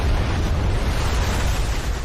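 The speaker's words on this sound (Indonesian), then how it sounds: "Hingga tak berapa lama bomnya pun meledak." A time bomb detonating in a film scene, heard as a dense, loud low rumble with broadband roar sustained throughout, like the rolling aftermath of a blast.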